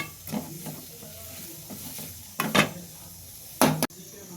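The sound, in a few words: goat blood stir-frying with masala in a pan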